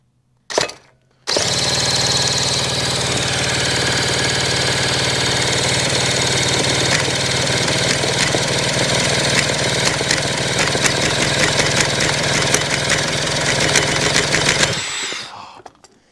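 A motorcycle engine, freshly started after fuel and brake cleaner were added, runs steadily and loudly for about thirteen seconds with a rough, knocking idle, then cuts out abruptly; no one speaks over it.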